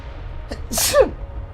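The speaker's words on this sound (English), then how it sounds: "Oh god, I got sneezes." A person lets out a single sharp sneeze, preceded by a brief quick intake of breath, close and loud against a quiet room.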